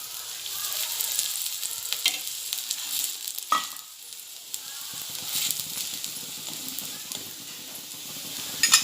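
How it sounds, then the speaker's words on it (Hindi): A besan-stuffed paratha fries in oil on a pan with a steady, close hiss and crackle of sizzling, plus occasional scraping as it is handled, and no talking. "अब मैं इसे चारों तरफ से तेल डालूंगी"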